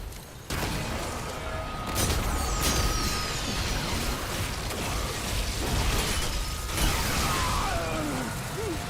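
Grenades burst in the Remnant 2 video game during a Space Marine build test, a dense run of blasts and crackling mechanical clatter beginning after a short quiet lead-in and continuing loudly throughout.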